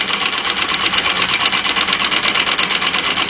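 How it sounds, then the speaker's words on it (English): A small turbine driving a shake flashlight, revved up to a fast, even mechanical buzz with a rapid rattling pulse, loud and close and running steadily without any talk. "that turbine very easily runs the shake flashlight. In fact, we can rev it up quite a bit"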